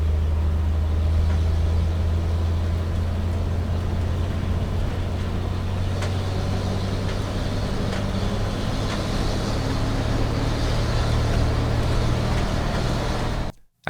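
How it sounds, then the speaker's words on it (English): A Dodge military truck driving fast, played as a sound effect: a loud, steady, deep engine drone with road rumble, heard close and alone, cutting off abruptly at the end. "This is a Dodge military truck driving fast."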